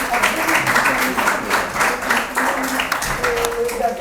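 An audience claps as a medal is presented at a tribute ceremony for flood relief workers, steady applause mixed with voices talking over it.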